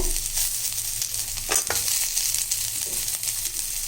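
Curry leaves and coriander sauté in a hot pan for a karamani and brinjal kuzhambu, giving a steady close sizzle with a few brief stirring scrapes and no talk.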